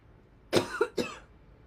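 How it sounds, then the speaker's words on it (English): Two sharp, nearby coughs from one person, a double burst then a single hack, with silence around them. "Be grateful for when you cough."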